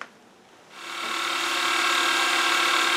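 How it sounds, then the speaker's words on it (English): A power tool deburring metal parts for a quill stop starts up after a short quiet moment and runs as a steady, loud, close grinding hiss for the rest of the clip, with no talking. "plenty of deburring to do"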